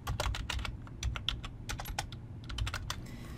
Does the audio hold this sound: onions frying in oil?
no